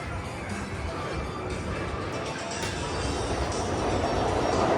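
A steady, broad rumble builds gradually as a Yamanote Line train rolls past nearby in Tokyo, continuous and fairly loud with no break.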